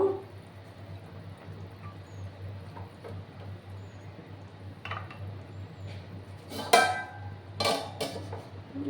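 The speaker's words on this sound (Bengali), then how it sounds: "ঢাকা চাপা দিয়ে রেখে দিলাম আমি বন্ধুরা আবার আমি ঢাকাটা সরিয়ে দিলাম" A metal lid on a cooking pot gives two or three brief clanks and scrapes late on, standing out over a low steady hum.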